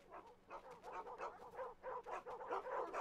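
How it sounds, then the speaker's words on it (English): Several dogs bark and whimper in the Endling video game, a busy run of yips and whines packed closely together at low volume, with no talking. "Look at all these dogs."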